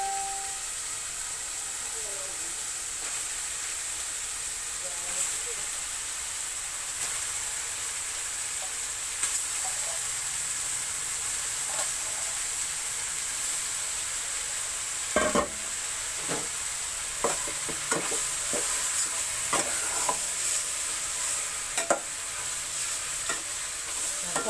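Pork for menudo sizzles steadily in a hot pan, a constant frying hiss up close, with scattered knocks and scrapes of a spoon stirring the meat that grow busier toward the end.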